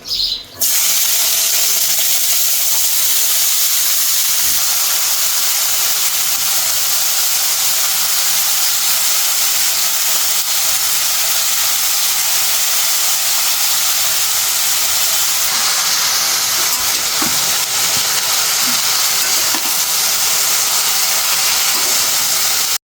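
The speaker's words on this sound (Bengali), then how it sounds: "আমি চরচুরি সবজিটা দিয়ে দিব তেলটা গরম হয়ে গেছে" Chorchori vegetables hit hot oil and set off a loud, steady sizzle that opens with a sharp burst, then settles into a continuous close hiss with no talk over it.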